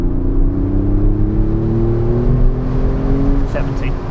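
A 370hp Kia in Sport Plus mode pulls hard onto the motorway, its engine note rising steadily under a constant roar of road and wind noise heard from inside the cabin.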